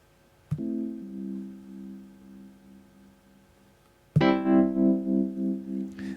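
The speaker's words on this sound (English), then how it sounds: "That is more realistic for a Wurlitzer sound" Two Wurlitzer electric piano notes ring out, the second struck loud and pulsing with a regular mono tremolo wobble in volume as it sustains.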